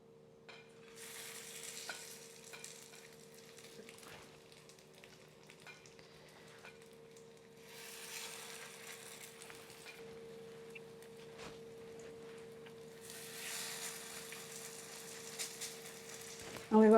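A P.A.N. cornmeal arepa cooks in a pan over medium heat, giving a faint, low sizzle that swells and fades in gentle waves, close by with a steady background hum.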